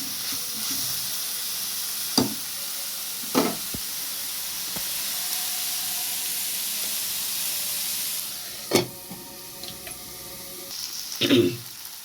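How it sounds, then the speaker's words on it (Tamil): Onions and tomatoes fry together in a pan for a fish curry, a continuous hissing sizzle punctuated by several sharp stirring clanks and a louder burst toward the end. "வெங்காயம் நல்லா வதங்கின மாதிரி தக்காளியும் நல்லா வதங்கிட்டோம்."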